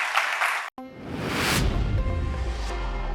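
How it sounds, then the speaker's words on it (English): Audience applause closes a conference talk on Go programming at ContainerDays Hamburg. It starts suddenly after a brief silence and builds into a dense, steady patter of many hands clapping that continues to the end. "round of applause"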